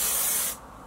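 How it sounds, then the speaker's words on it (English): A single short burst of Got To Be hairspray hissing close by onto a curly wig for about half a second, then cutting off into quiet. "spray some Got To Be on the actual wig."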